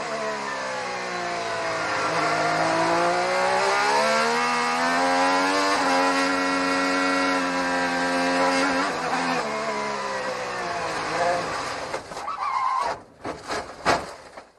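Race car engine on a dusty racetrack, a sustained high revving drone with shifting pitch as the car slides sideways, then abrupt sharp bursts and clatter near the end as it hits the barrier rear-first.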